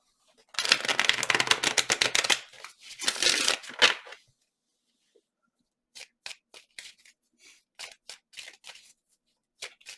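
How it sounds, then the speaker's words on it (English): Tarot cards are shuffled by hand: a dense riffling burst of rapid clicks for a few seconds, a second shorter riffle, then scattered soft taps and card slides, close and quiet with no talking. "I'm going to shuffle."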